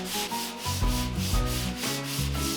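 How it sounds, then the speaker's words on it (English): Hand sanding of a surface during a bedroom renovation, a steady run of rhythmic scratchy back-and-forth strokes, close and fairly loud, with no talking. "And that's how you do sanding."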